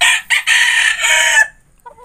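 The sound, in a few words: chicken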